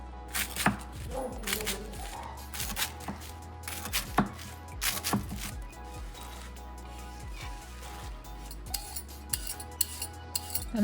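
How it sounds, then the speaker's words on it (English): A knife chops through a bunch of spinach on a cutting board in a home kitchen, with quick irregular thuds and taps coming in bursts, close and fairly quiet, with no talking. "I also chopped a bunch of spinach."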